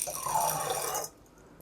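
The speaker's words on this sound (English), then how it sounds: "let me just pour this in here and let's see what happens" Water poured from a container into a vessel holding popcorn kernels, a steady close splashing pour for about a second that then stops abruptly, leaving quiet.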